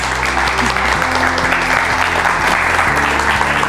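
A studio audience on a Turkish TV health show applauds as a guest walks on, with loud, steady clapping over an upbeat music bed.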